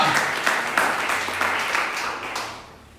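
A church congregation applauds together in acclaim of the Lord, a steady wash of many hands clapping fairly close, holding level before fading out.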